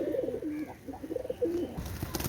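Pigeons of teddy and golden breeds give several soft, throaty coos in quick succession, close by, followed by a brief rustle at the end.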